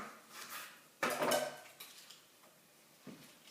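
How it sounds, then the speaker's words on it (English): Tomato paste being stirred into spaghetti bolognaise sauce in a pot, a sharp metallic clatter of utensil against pan followed by softer scraping and a final tap, close and quiet. "So mix that in as well."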